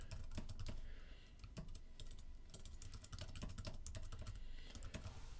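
Steady typing on a computer keyboard, quick irregular clicks of keys close by and fairly quiet, with no voices.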